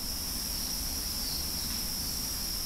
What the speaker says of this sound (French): ce bruit ambiant, basé sur le chant des grillons